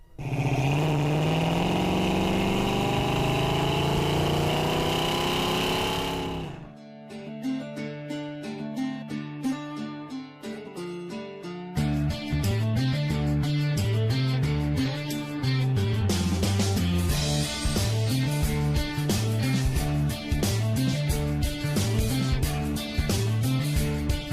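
A 1970 Dodge Challenger R/T with a 383 Magnum V8 rumbles loudly and steadily up close for about seven seconds, then cuts off as music takes over.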